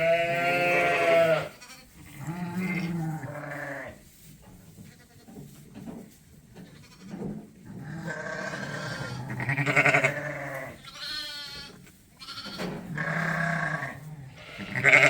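Sheep and young lambs on a farm bleat repeatedly, several overlapping calls close by with short quiet gaps between them, with no talking.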